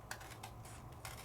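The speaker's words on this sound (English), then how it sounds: "I'm definitely cutting into the tape." Scissors snip into tape during a scrapbooking stamp project, giving a few quiet, close crisp cuts spaced irregularly with a sharper snip at the end.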